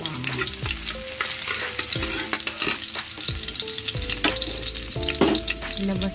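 Garlic sautéing in oil, a loud close sizzle with frequent stirring scrapes and clinks against the pan, with steady background music.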